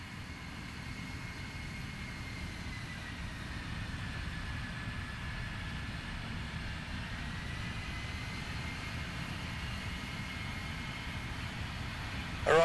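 A Red Arrows jet performs an aerobatic manoeuvre, heard from inside the cockpit as a steady, loud broadband engine and airflow roar with a deep rumble, holding constant throughout.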